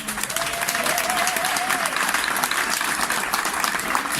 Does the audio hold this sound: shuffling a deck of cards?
no